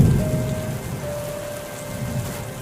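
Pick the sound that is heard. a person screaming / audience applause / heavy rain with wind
heavy rain with wind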